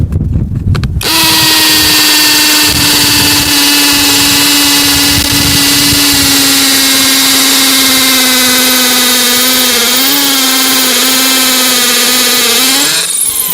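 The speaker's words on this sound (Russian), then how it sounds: "ставим режим сверления с ударом" A LYUOWO LW CZ20 cordless impact drill in hammer-drill mode bores into a concrete road curb, giving a loud, steady whining drone with a rattling hammer texture that climbs in pitch near the end before cutting off.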